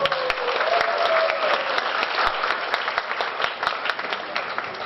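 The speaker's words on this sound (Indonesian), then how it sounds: "Yuk kita kasih aplaus paling meriah untuk Mbak Cici" Loud, sustained audience applause fills a hall at an entrepreneurship festival in Surabaya, steady clapping from a large crowd throughout, with a faint tone briefly rising early on.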